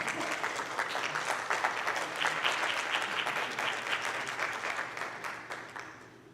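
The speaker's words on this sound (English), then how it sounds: "Can we give our leaders one more round of applause?" School board meeting audience applauding the principals, a steady round of many hands clapping at moderate distance that gradually tapers off near the end.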